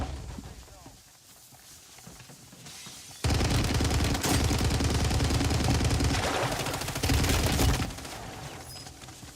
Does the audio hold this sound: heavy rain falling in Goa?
no